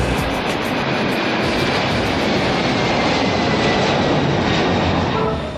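Jet airplanes at Kansai International Airport give off a loud, steady, broadband engine roar that continues unbroken with no speech.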